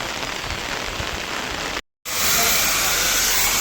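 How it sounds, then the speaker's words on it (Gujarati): Rain falls in a steady, dense hiss, drumming evenly on surfaces nearby, broken by a brief silent cut midway before resuming slightly louder. "વરસાદ ચાલુ છે."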